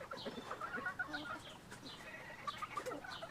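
Farm chickens cluck in soft, scattered bursts, several birds nearby but fairly quiet, with no one talking over them.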